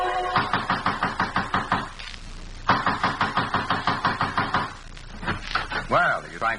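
Heavy, insistent pounding on a door in a radio drama, delivered in rapid bursts of evenly spaced blows separated by short pauses, loud and close, with a voice speaking near the end.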